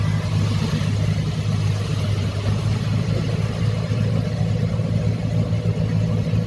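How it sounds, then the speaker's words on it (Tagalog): A truck engine runs steadily at a sewerage treatment plant, a loud, continuous low rumble with no change in pitch, close by and heard alone. "Isang truck."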